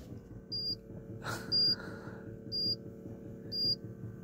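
Four short electronic beeps from a Fiat Tempra Stile 2.0 8V turbo at a steady one-second interval, fairly loud over a low engine-like hum, with a brief burst of noise between the first two.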